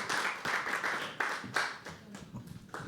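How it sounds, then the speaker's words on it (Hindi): Applause from an audience at a live poetry open mic: a brief burst of clapping, dense at first and then thinning into scattered individual claps over a few seconds. "एक बार जोरदार तालियां होमी के लिए दोस्तों।"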